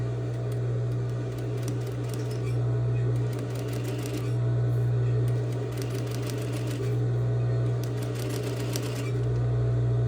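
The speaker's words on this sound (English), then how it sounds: "I can start to sew, and I'm going to stitch and back stitch" Sewing machine running in steady bursts while stitching and back stitching a seam, a constant motor hum with rapid needle chatter under a person's voice speaking.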